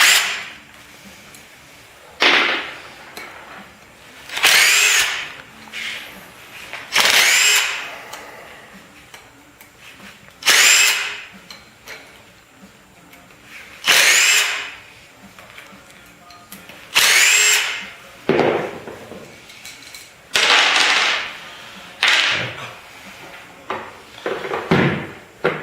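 A power drill or driver unscrewing the casing of a device to reach its rotor, with repeated short bursts of whirring separated by pauses, close and fairly loud.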